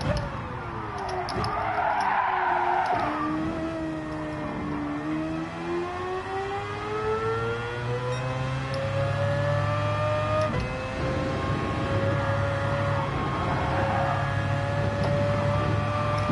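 A Mazda engine in Gran Turismo 7 revs and shifts through gears, its pitch climbing and dropping repeatedly over several upshifts, loud and steady with tire noise and faint talk underneath.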